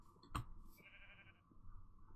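A sheep in a survival video game bleats once, a short, clear bleat that stands alone without talk over it.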